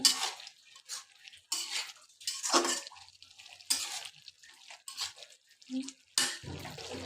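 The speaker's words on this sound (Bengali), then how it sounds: "আমি ডোমরটাকে নেড়ে চেড়ে নেব এখন" Fig and potato curry stirred in a pot: irregular wet scrapes and clinks of a spoon against metal, close and moderately loud, separated by short pauses, with a faint voice-like sound toward the end.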